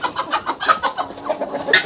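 Two hens scuffle and cluck in a backyard flock, a rapid series of sharp, rhythmic clucks close by, ending in a louder squawk.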